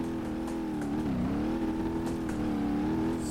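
Big diesel mud truck engine with no muffler in BeamNG.drive, a work truck built up with super low gears: a steady, loud, throaty drone that swells and dips slightly as the revs rise and fall.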